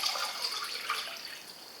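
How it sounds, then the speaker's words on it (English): Water at 50 degrees pours into a cup during a stove test, a soft, steady splashing trickle heard close and alone for a couple of seconds. "Let's put the water in the cup first."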